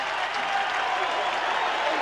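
A 1989 college football stadium crowd at a Miami Hurricanes vs Wisconsin Badgers game applauding the Wisconsin defense, a broad, continuous roar of clapping and cheering heard from a distance.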